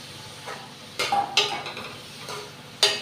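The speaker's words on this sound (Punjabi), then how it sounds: "ਤੇਲ ਆਪਣਾ ਗਰਮ ਹੋ ਚੁੱਕਿਆ ਜੀ ਆਪਾਂ ਇਹਦੇ ਵਿੱਚ ਪਿਆਜ਼ ਪਾ ਦਾਂਗੇ" Chopped onions go into hot oil in a pan for a bitter gourd (karela) curry, with a few sharp scraping clinks of a spoon against metal over a light, low sizzle.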